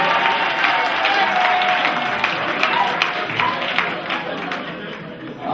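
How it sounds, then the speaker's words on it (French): Sustained applause from a wedding crowd, steady dense clapping with a faint murmur of voices mixed in, continuing evenly for several seconds. "Applaudissez pour lui."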